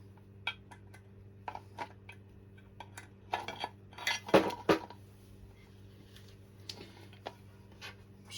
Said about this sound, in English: Screws are going everywhere.